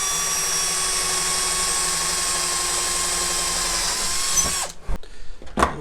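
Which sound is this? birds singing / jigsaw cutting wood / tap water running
jigsaw cutting wood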